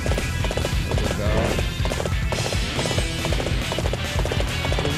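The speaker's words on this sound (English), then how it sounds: "I guess I could call my horse." Horse galloping in Dynasty Warriors 8, rapid rhythmic hoofbeats pounding steadily and close, with a brief whinny and little else around them.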